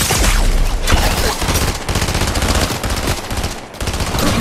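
Rapid Fortnite gunfire crackles in sustained bursts, loud and close, with short gaps between volleys of automatic shots.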